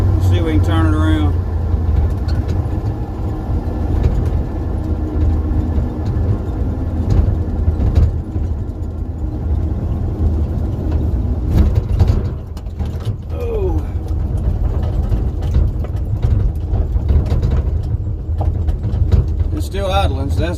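A 1979 Chevy C20 pickup, parked since 2005, idles with a rough, steady low rumble and mechanical clatter at close range, while someone talks intermittently over it.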